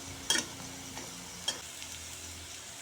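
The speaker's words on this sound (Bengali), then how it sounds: "আমি মসুর ডালের বড়া ছোটো ছোটো করে বেজে নিয়েছি" Small masoor dal fritters frying in a pan give a faint, steady background sizzle, broken by a few soft stirring scrapes and clinks and one sharper knock at the end.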